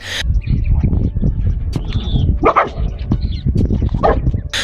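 A dog barks in quick, rough bursts amid a busy, noisy background, close and fairly loud.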